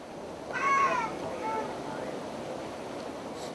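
Raccoon cubs trapped in an urban drain pipe give a few thin, high, wavering cries, faint and distant over steady background hiss and rushing noise, then fall quiet.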